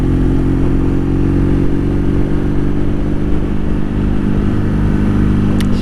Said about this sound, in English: Revving all the time. I love the revving.